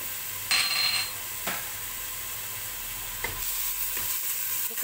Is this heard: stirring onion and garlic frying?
yes